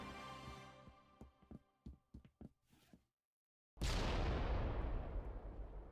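A Halo 3 rocket launcher explosion bursts in loud and close, a dense, broad roar that hits after a short silence and rumbles on as it slowly decays, following a run of sharp thumping impacts.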